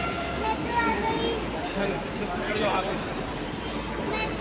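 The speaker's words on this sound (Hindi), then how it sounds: "तो आ गई है हमारी मेट्रो ट्रेन।" A metro train rumbles in with a low, steady mechanical roar, while people chatter nearby and a voice cuts through the background.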